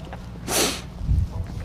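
A single sneeze bursts out loud and close in an indoor room, followed by low rumbling handling noise.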